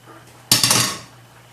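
Dry pasta is tipped into a metal pot for a tuna pasta dish, giving a quick clattering rattle of several sharp hits that fades over about half a second.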